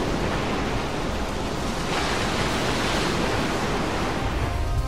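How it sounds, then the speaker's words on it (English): Stormy sea with harsh marine weather: a dense, steady roar of crashing surf and gusting wind filling the whole clip, loud and continuous with no voices. "Harsh marine weather."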